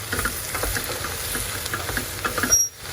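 Eggplant and zucchini frying and being stirred in a pan, a steady sizzle with scattered scraping clicks that drops off sharply near the end.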